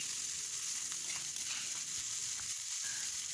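Chopped onions frying in oil, a steady, moderate hiss of sizzling with a few faint stirring touches and no talk.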